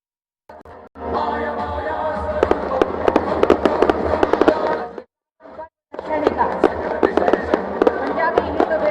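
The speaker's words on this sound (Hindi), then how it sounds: "पंजाबी हिंदू बिरादरी दशहरा कमेटी 2025 की ओर से शुभकामनाओं के साथ ये आतिशबाजी का शो" A Dussehra Ravan Dahan fireworks show by a Punjabi Hindu community committee in 2025 fills the air with dense, loud crackling and popping bursts, broken by a brief lull, with a crowd faintly audible.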